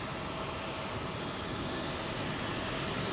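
Airbus A330 jet at London Heathrow runway 27L roars in a steady, broadband engine rumble that stays loud and even throughout, with no voices over it.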